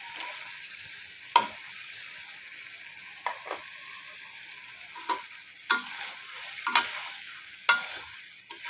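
Fried vegetables, including okra, are tipped into cooked spice paste in a pan. A quiet, steady sizzle is broken by several sharp spoon clinks and stirring knocks at irregular intervals.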